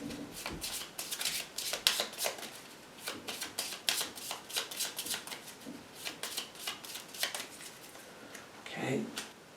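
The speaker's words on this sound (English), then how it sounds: "so we'll shuffle these up." Board game cards from Nemesis being shuffled by hand, a steady run of crisp riffling and slapping bursts over about ten seconds, close and fairly loud, with a voice talking faintly underneath.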